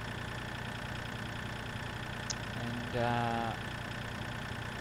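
Tractor engine from Farming Simulator 2013 running steadily while cultivating a field, a continuous mid-pitched droning hum, with a voice talking briefly over it.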